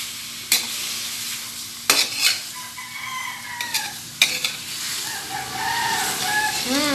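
Chicken congee being stirred in a pot after fish sauce and pepper go in, with broad scraping and sizzling strokes, a few sharp clinks of the utensil against the pot, and a faint rooster crowing in the distance.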